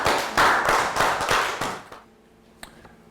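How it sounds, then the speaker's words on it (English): A small round of hand clapping from a Year 3 classroom, a brief burst of close claps lasting about two seconds before dropping away into near silence with a single faint tap. "A round of applause for everyone"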